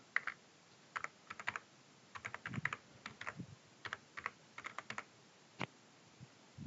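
Clicky bursts of keystrokes on a computer keyboard as a project name is typed, irregular clusters of close, fairly quiet taps with pauses between, no voice.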